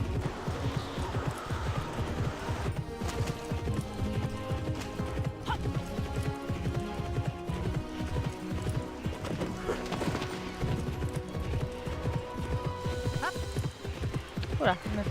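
Horse hooves clip-clopping in the Alexandra Ledermann horse-riding video game as the horse jumps and turns tightly, a steady, busy rhythm of close hoofbeats with occasional neighs under continuous game sound.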